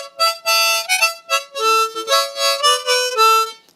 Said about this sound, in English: That's an A harmonica.